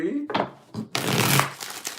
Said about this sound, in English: Let's get 6 shuffles.